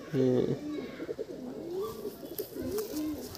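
Desi pigeons in a loft coo in soft, rolling phrases, one bird fairly close with a louder opening coo, amid a low background murmur of the loft.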